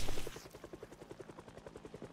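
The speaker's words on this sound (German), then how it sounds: "Wir haben mal wieder den Helikopter über uns." A helicopter flies overhead in the video game Project Zomboid, its rotor giving a steady rhythmic thudding that pulses about every quarter second, fairly near, with no talk over it.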